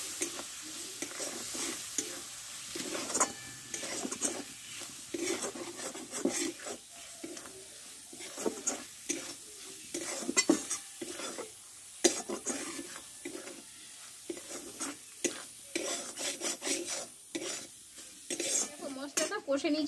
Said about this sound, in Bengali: দিয়ে মশলাটা ভালোভাবে কষে নেব।